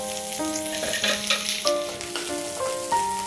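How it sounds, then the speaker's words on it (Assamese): Chopped onion and jolokia chillies sizzle and crackle in hot mustard oil in a pan, a close, continuous frying hiss with small bursts, over a faint tonal background. "তেলখিনি গৰম হোৱাৰ লগে লগে মই কাটি থোৱা পিঁয়াজ, জলকীয়া ইয়াত দি দিছোঁ।"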